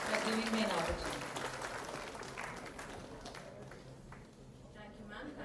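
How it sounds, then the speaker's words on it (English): Audience applause filling a conference auditorium, dense and steady at first then slowly thinning, heard faintly at a distance with talk mixed in. "Big round of applause to you."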